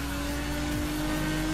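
An all-wheel-drive car in Need for Speed Most Wanted drives at steady speed, its engine a constant, fairly quiet drone with no breaks.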